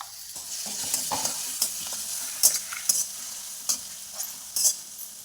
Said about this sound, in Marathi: भाजून मध्ये आपण शेंगादाण्याचं तेल टाकून घेऊया हिरवी मिरची जाडसर केलेली आहे